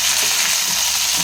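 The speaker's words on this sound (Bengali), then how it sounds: "এবারে আমি টমেটো আর পেঁয়াজ কুচোগুলো দেবো একসাথে, দিয়ে আবার ভালো করে ফ্রাই করে নেবো।" Tomato and onion frying with potatoes in a pan for aloo posto, a steady hiss of sizzling oil filling the whole short moment, close and fairly loud, with no voices.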